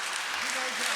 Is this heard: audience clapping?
yes